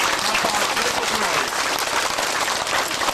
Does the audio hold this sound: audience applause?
yes